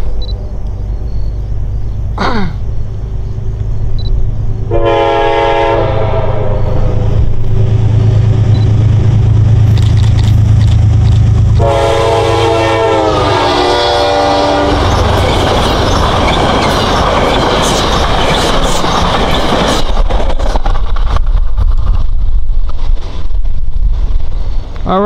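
A Metro North train going by, a loud close rumble of wheels clattering over rail joints with bursts of horn-like tones and squealing wheels, running on throughout.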